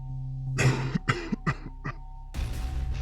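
A few quiet coughs in quick succession, followed by a rougher, breathy cough, set against a steady low hum.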